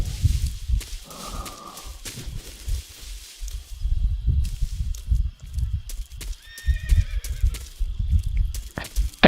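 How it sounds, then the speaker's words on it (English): A horse whinnies over hooves clip-clopping and scattered thuds and clicks, with faint background noise from the video game Metal Gear Solid 3: Snake Eater. "I hear your horsey."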